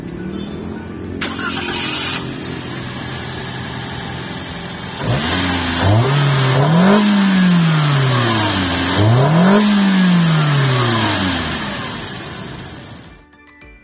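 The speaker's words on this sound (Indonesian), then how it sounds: "sekarang kita pengen denger suara mesinnya kayak apa sih gitu kan" Toyota Calya Facelift 2022 with the 3NR-VE engine cranks and starts, then revs twice in rising and falling sweeps before settling, loud and close with brief talk at the start.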